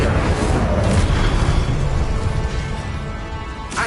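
Incendio fire spell cast in Hogwarts Legacy, a loud whooshing roar of flame that swells and slowly fades, ending in a brief bright crackle, heard alone without voices.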